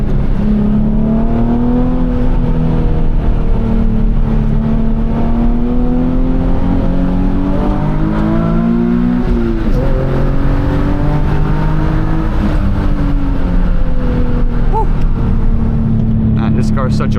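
A tuned Nissan 370Z engine is revved hard through the gears while driving. It sounds as a loud, steady drone whose pitch climbs and drops with each shift, heard continuously from inside the car.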